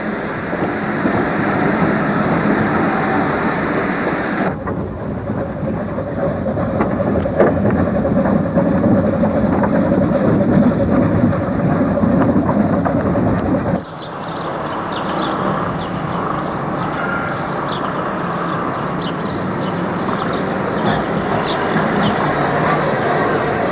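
A railway locomotive hauls a train on a special extension run, a loud, sustained rumbling drone with steady mechanical noise and an abrupt shift partway through, no voices.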